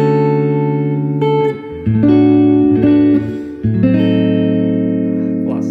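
An acoustic guitar plays a slow chord-melody arrangement of the carol Silent Night, with sustained chords and a single melody line moving between held notes. It sounds close and clear, with no talking over it.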